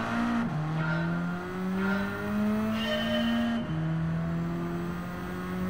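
A race car in Gran Turismo 7 holds a loud, steady engine drone with pitch climbing through gears, two sharp drops at upshifts, sustained and close with no talk over it.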